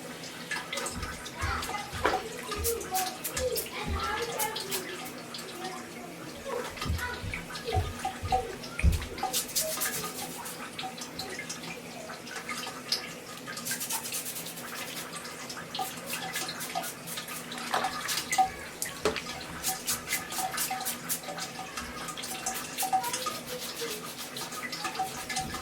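A wig's lace is gently scrubbed by hand in shampoo water, giving soft continuous splashing and wet rubbing close by with irregular patters and drips.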